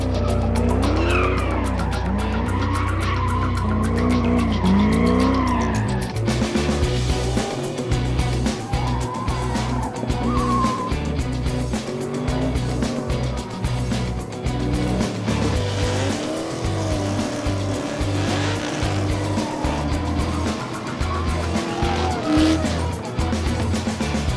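Loud race car engines roar and rev with squealing tires at Beach Bend Raceway during LS Fest, a Chevrolet gathering, steady and close throughout, with crowd-like background noise.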